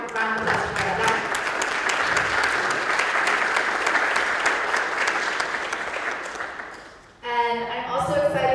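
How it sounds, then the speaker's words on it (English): Warm applause from an audience at a college teach-in, steady dense clapping that runs for several seconds, then fades and cuts off as a voice begins talking. "let's give a warm round of applause for Adan"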